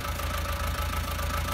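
Tractor engine idling in Farming Simulator 19, a steady low rhythmic chug with constant mechanical hum, close and continuous.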